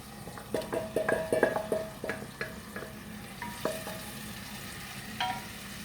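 Tomatoes tipped into a frying pan of ratatouille vegetables over reduced heat, giving a burst of sizzling with several clinks and scrapes of a utensil against the pan, then a steady quieter sizzle.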